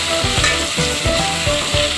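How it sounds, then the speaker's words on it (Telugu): Tomatoes fry in hot oil with a steady, loud sizzle and crackle, with soft rhythmic stirring scrapes repeating every half second or so. No voices are present. "టమాటాలు కూడా బాగా ఉడకనివ్వాలండి ఆయిల్లోనే."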